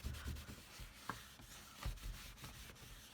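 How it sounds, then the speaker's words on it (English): Quiet rubbing of balm into a dry leather notebook cover, soft irregular scuffing strokes with a few faint taps, close and low in level with no talking. "So I'm just going to give it a quick rub."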